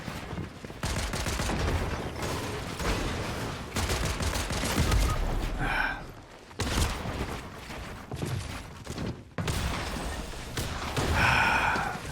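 Video game gunfire in a ranked shooter match on a canyon map, with bursts of rapid shots from several attackers coming in repeated volleys, loud and close, separated by short gaps.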